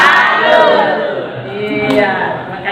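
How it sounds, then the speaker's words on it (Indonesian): An audience at an anti-corruption outreach session in Makassar does a group clapping salute chant, voices shouting together in unison loud and close, with a sustained crowd chorus rather than scattered claps. "Kita beri tepuk salut untuk Bapak."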